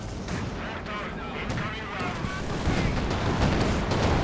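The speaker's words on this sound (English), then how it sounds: "Flak Panzer doing a bit of a drive-by there, taking a walloping. 3 shots." Flak Panzer gunfire in a Company of Heroes 2 battle: dense, continuous booming shots and rumbling explosions that swell slightly toward the end, partly under a commentator's voice.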